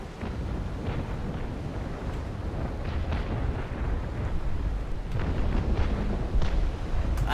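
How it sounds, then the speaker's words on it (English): Cannon fire and shell splashes in the naval battle game Naval Action, with the USS Constitution in a large fleet battle, rumble as a continuous low booming roar, with scattered sharper thuds and bursts over it throughout. "I hear cannon splashing around me"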